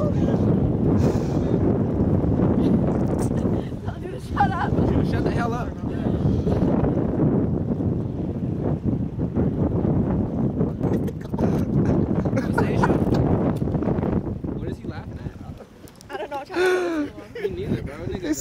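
Strong gusts of wind buffet the microphone outdoors, producing a loud, continuous low rumble with people talking and shouting over it.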